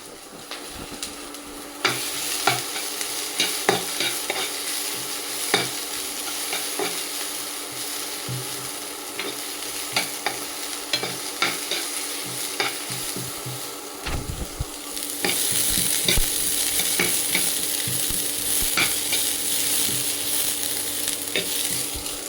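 Shredded cabbage stirred through hot oil in a pan, a steady close sizzle with frequent scraping spatula strokes that grows louder and denser partway through.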